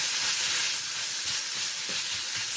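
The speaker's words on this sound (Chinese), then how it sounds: "继续翻炒一两分钟" Vegetarian saozi noodle topping seasoned with soy sauce being stir-fried in a wok, giving a continuous broad sizzling hiss with faint low scraping underneath and no voices.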